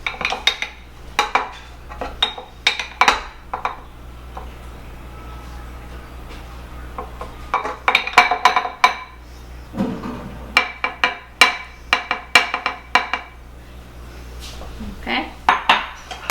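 Chocolate cake batter with flour being mixed in a bowl: a close, irregular clatter of a utensil knocking and scraping against the bowl in bursts, with a low steady hum beneath and no voices.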